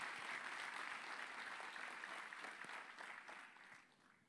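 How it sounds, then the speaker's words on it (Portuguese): Church congregation applauding during a pastor's sermon, a continuous dense roar of clapping that stays full and then gradually fades in the final second. "Aplauda o Senhor, irmão"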